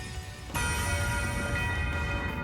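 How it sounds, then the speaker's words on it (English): A sudden bright bell-like chime rings out in Trails of Cold Steel IV as the Nocturne Bell is struck, sustaining a shimmering, resonant tone with lingering overtones for a couple of seconds, loud and close. "Resound! Nocturne Bell!"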